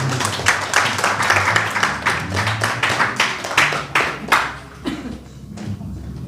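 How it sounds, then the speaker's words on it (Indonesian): A church congregation claps after a closing prayer, with scattered, uneven hand claps in irregular bursts that thin out and fade toward the end, mixed with some crowd murmur. "Berikan tepuk tangan."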